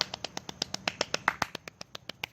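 Rapid hand clapping in a quick, even roll of about twenty sharp, close claps over a couple of seconds, alone without talking.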